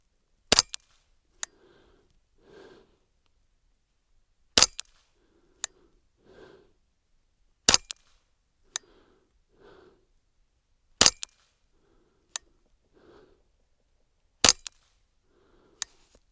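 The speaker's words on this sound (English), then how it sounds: "this time we have 5 rounds of that SK match" Five rifle shots of SK match ammunition ring out one at a time, evenly spaced about three seconds apart, each a sharp, loud crack followed by a faint distant echo, with soft handling clicks between shots.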